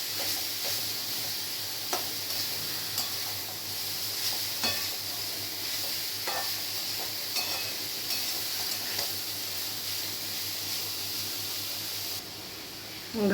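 Grated carrots for carrot halwa fry with a steady, soft hiss in a pan. Occasional light scrapes and taps of stirring sound over it, and no one speaks.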